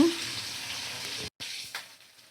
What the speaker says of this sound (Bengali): ক্যাপসিকামটা ভাজা হয়ে যাক